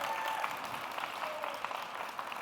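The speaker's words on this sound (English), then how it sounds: "So, another round of applause for all our innovators." A hall audience gives a steady round of applause for palliative care innovators at an awards event, dense clapping throughout without a break.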